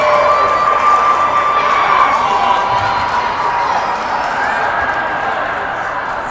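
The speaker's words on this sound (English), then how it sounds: "You can hear their crowd cheering." A high school hockey crowd cheers in a rink after a goal, a loud sustained roar with shouts and whistles that slowly eases, with an announcer talking over it.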